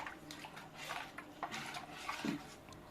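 A ladle stirs water in a cooking pot while amla juice is prepared, giving soft clinks against the metal and a light swish of liquid over about three seconds, close and fairly quiet, with no one speaking.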